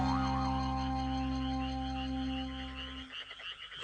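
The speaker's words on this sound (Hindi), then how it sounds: "ये तो मेंढक की आवाज थी।" A cartoonish frog croak rings out as a sustained, warbling tone, then breaks off into a short burst of lower rattling croaks.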